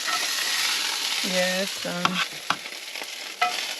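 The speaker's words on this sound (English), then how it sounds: "So we're gonna do a whole stick of butter." A whole stick of butter sizzles with potatoes in a skillet at a camp stove, a loud steady frying hiss with stirring scrapes, and a brief voice speaks.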